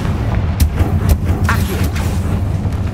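A Confringo blasting spell in a Harry Potter video game sets off loud, rumbling booms with sharp crackling bursts layered over a continuous low roar, no speech.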